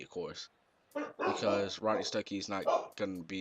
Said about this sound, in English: sorry for my dog as she's barking